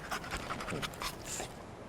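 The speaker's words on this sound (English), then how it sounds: "Oh, doggy." A dog pants rapidly in the video game Remnant II, a quick rhythmic string of breathy huffs heard close and fairly quiet over a steady background hum, with no voices.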